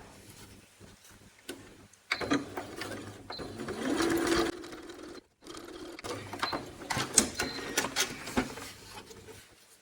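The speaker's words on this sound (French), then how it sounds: "on vient coudre donc au plus près avec notre aiguille" A sewing machine stitches fabric close along an existing seam for a coin purse, running in steady mechanical bursts with short pauses between them, close and clear, with no talking.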